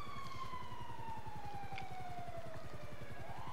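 A police siren in GTA V slowly falls in pitch over steady rhythmic engine rumble, with a game soundtrack feel and no talking.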